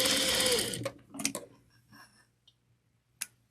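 Sewing machine back stitching a pillowcase in a short burst that stops quickly, followed by a few faint clicks and small handling taps in a quiet room.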